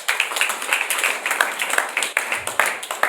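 A church congregation claps and applauds for Jesus during a Sunday worship service. Many hands clap together in a steady, energetic rhythm, loud and close, with faint voices mixed in.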